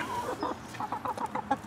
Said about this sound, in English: Chased away by chickens.